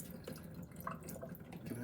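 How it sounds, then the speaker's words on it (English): Water drains and trickles off a freshly rinsed object held upright over a sink, a steady close splashing with small drips throughout and no talking. "Take the water off, move this over, and just drain it off like that."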